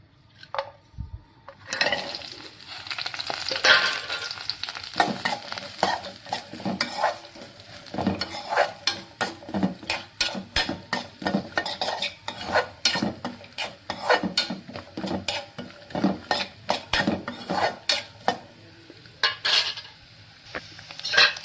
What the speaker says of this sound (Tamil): தேங்காய் எண்ணெய் விட்டு வறுத்து எடுத்துக்கலாம்